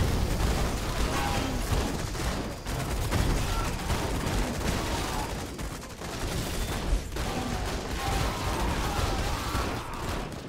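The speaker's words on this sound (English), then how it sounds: "there's some pretty big airstrikes" Airstrikes in the strategy game Zerospace, a dense, continuous barrage of rapid gunfire and explosive rumbles, loud and sustained with brief dips, under busy battle noise.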